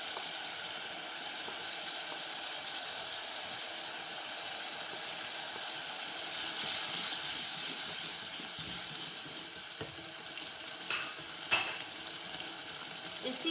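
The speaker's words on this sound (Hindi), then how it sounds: "अब मैं इसको अच्छे से भूनूंगी और साथ ही मैं मसाला जात भी इसके अंदर ऐड कर दूँगी" Ginger paste and green chili frying with spices in a pan, a steady dense sizzle and hiss throughout with occasional stirring scrapes and clicks, no talking.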